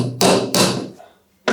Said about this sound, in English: I'm gonna set a nail to the bottom of my header